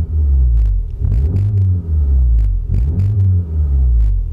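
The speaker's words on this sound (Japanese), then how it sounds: "R プラスでアクセルを軽く踏みます。" A Mini Cooper engine fitted with a RaceChip tuning module in R+ mode revs under light throttle, giving a loud, close, deep rumble with two short rising blips that settle back to idle.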